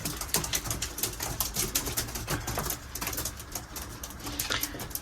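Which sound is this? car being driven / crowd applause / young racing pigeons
young racing pigeons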